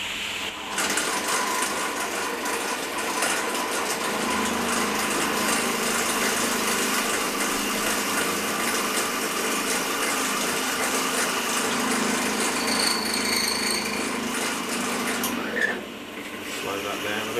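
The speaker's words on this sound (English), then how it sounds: "see if we can now pilot a 10mm hole into the middle of it." A 10mm pilot hole is drilled into the middle of a workpiece for a homemade carbide woodturning tool: a steady high-pitched machine whine with grinding, cutting noise runs close and loud throughout, ending in a brief spike near the end.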